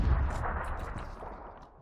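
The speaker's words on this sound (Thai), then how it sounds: "ปาระเบิดขึ้นบันไดแบบนี้ระวังครับ" A grenade explodes in the PUBG video game, a single loud boom with a rumbling tail that fades over about two seconds, with no voices over it.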